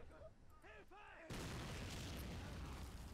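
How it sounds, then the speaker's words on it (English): An artillery shell explodes on a WW1 video game battlefield at Fort de Vaux: a brief voice, then a sudden loud, close blast that rolls into a sustained roar of noise. "they just took a big hit from an artillery piece"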